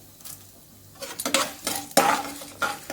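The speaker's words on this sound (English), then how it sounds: "Let's add the mustard seeds and the jeera, followed by the chana dal and urad dal." Mustard seeds, cumin, chana dal and urad dal crackle and sizzle in hot oil as a spoon stirs and clinks against the pan in a few close bursts, starting quiet and growing busier.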